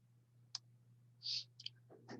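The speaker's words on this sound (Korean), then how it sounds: "클릭." A few faint computer mouse clicks, sharp and sparse, sit over a low steady hum at a desk during a spreadsheet lesson, with a soft breathy rustle between them.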